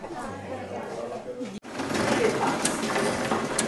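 Sewing machines donated to a girls' sewing class in San Juan de Limay, Nicaragua, whir and clatter steadily, with a brief cut midway, against a busy room of background chatter.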